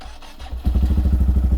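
Small Honda motorcycle engine, the XR, starts up: a short cranking scrape, then from about two-thirds of a second a steady, loud, close thumping idle with even low pulses.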